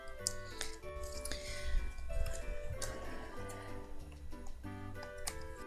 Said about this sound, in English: I am going to just trim off that little bit of my camper.